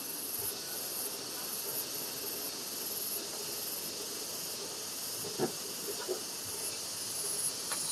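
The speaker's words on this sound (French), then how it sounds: "je crois que c'est des cigales qui font un bruit, un concert, je pense que vous allez les entendre" Cicadas outdoors make a steady, shrill high-pitched drone that runs throughout, moderately loud, with a few faint soft knocks near the end.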